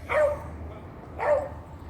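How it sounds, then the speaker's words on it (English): A dog in a garden barks twice at a bird perched on a wire, two loud, sharp barks about a second apart with quiet between them. "She's barking at something."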